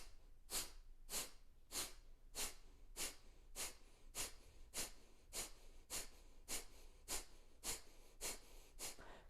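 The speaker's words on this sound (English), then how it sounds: "So we're all going to do breath of fire for 1 minute." Rapid breath of fire breathing exercise during a guided meditation, sharp forceful nasal exhalations repeating in a steady even rhythm about twice per second, close and alone with no talk.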